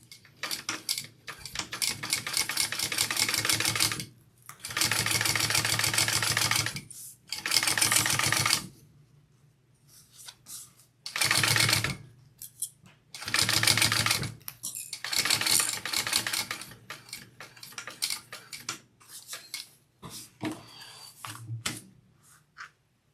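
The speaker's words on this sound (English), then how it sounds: "top stitch this trim on, and then we will stitch this pocket onto our bag" A sewing machine top-stitches trim onto a handbag in several bursts of rapid, even needle clatter lasting a few seconds each, separated by short pauses, with a few brief spurts toward the end; nobody speaks.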